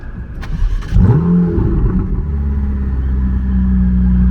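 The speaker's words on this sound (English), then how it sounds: "Let's give it a start up here." Ferrari 488 GTB engine starting up close by, with a starter whir, a loud bark on catching, then a settling, steady low idle rumble.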